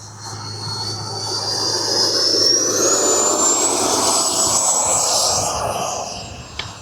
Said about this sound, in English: going to take off from that direction and land from the other direction